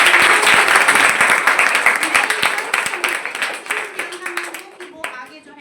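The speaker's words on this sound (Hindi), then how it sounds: "तो एक बार जोरदार तालियां" Loud, dense applause from a school audience of girls and adults at an awareness event in Chhapra, Bihar, continuous clapping that slowly thins and fades toward the end.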